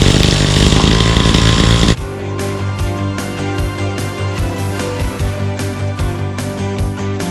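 A petrol grass trimmer fitted with steel line buzzes loudly at high revs, then drops to a choppy, pulsing run with rhythmic surges, close and alone.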